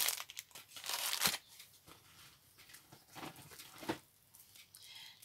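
Kraft paper envelopes in a packet crinkle and rustle as they are handled, with bursts of papery crackling and a couple of sharper crisp rustles, close and fairly quiet.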